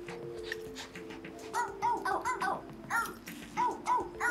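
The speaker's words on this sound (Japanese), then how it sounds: "吠えてしまった。" A dog in a game-and-talk variety show gives a series of short barks and whimpery yips, moderately loud bursts repeating in an uneven rhythm, with faint background noise.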